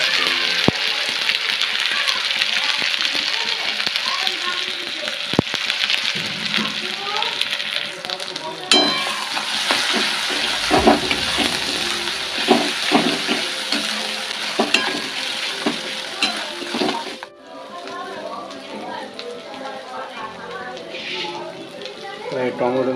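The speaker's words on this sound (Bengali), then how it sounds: "আদা রসুনটা ভেজে নিই।" Ginger and garlic sizzle and fry in a hot pan while chana masala is cooked at home, a steady loud crackle with occasional stirring clatter, continuing under a person's talk.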